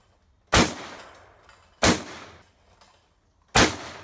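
Shotgun blasts fired at clay targets on an outdoor shooting stand, three loud sharp reports spaced more than a second apart, each ringing out with a short echoing decay and no voices between them.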